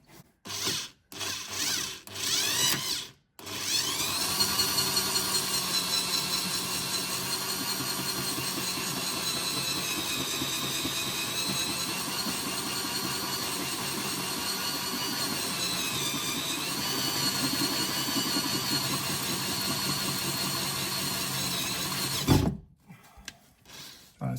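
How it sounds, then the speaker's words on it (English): A drill running steadily for about twenty seconds as it widens a hole in a BMW M2/M3/M4 fender with a bigger bit, close and loud, with a few short bursts before it and a stop at the end. "Open it up with a bigger bit."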